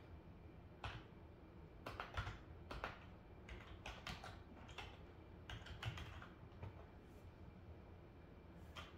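Commands typed on a computer keyboard, quick irregular clusters of soft key clicks close by over a low steady background hum, fairly quiet with no talk.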